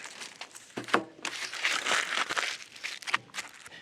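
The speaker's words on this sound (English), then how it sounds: "The ideal brick is one of these shallow paving bricks. And you wrap it in aluminum foil" A shallow paving brick being wrapped in aluminum foil, shiny side out, gives close, quiet crinkling and rustling in irregular bursts with no talking.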